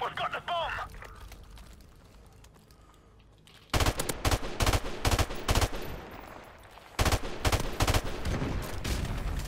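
Automatic gunfire in a Call of Duty: Modern Warfare Remastered search-and-destroy wager match, loud bursts at about 4 and 7 seconds after a quieter stretch, mixed with game sound effects.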